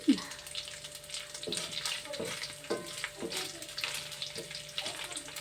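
Something dropped into hot oil sizzles and bubbles steadily, with a run of soft crackling bursts building through the frying in a home kitchen; no one talks.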